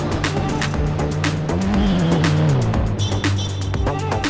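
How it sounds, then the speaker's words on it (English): Toy supercar racing and jumping on a track, its motor whining steadily with a rising and falling pitch, sharp ticks and rattles over it and squeal-like tones, loud and close throughout. "Look how Tarzan cars perform."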